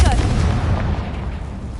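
A Confringo blasting spell explodes in the video game Hogwarts Legacy, a short heavy boom with a rumbling tail that fades over about two seconds.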